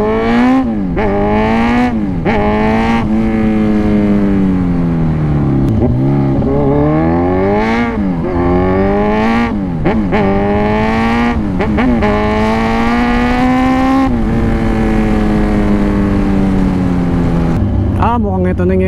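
A motorcycle engine on a Suzuki Raider revs and accelerates repeatedly, its pitch climbing through gears and dropping between shifts, loud and close, with wind rush during a ride toward an expressway.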